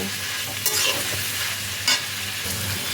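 Fried rice with vegetables, chicken and scrambled egg being stirred in a pan, a steady frying sizzle broken by a few brief scraping strokes of the spatula, close and moderately loud with no talking.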